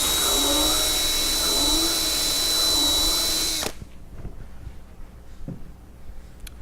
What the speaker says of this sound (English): so we know where to drill from